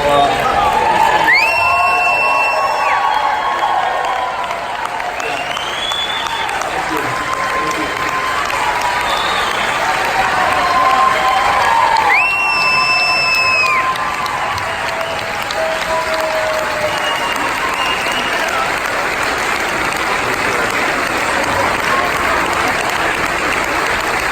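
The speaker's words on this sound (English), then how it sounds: "Give another round of applause" A wedding reception crowd applauds steadily throughout, with whoops and cheers rising over the clapping; dense, loud and continuous.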